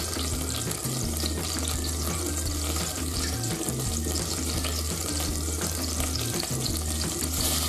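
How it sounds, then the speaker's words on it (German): Flour stirred into hot fat in a pan for a German mustard sauce, a dense steady sizzle and hiss with a low hum running throughout, close and uninterrupted. "Das Ganze einrühren ins Fett."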